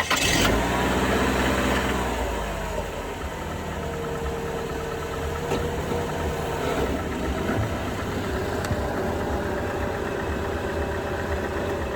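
A Chrysler 2.4 DOHC four-cylinder engine cranks and fires up, then settles into a steady, fairly quiet idle with a faint ticking rhythm, heard close with no voices.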